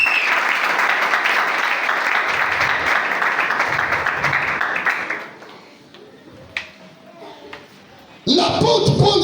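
Church congregation at a Sunday service applauding and cheering in praise of the Lord, dense sustained clapping with voices that fades into quiet, then a fresh burst of applause near the end.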